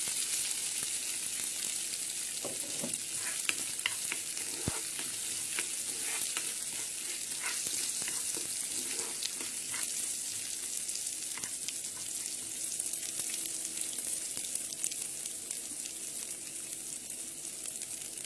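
Frying in a pan for mustard hilsa curry makes a low, steady sizzle that carries on without pause, with occasional faint clicks and scrapes of stirring.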